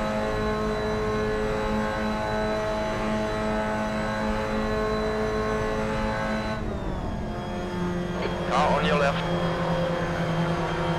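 Racing cars in Assetto Corsa, including a Mazda, sustain a steady engine drone as rivals close in from behind in the slipstream, the tone shifting partway through as the cars draw level; continuous and fairly loud.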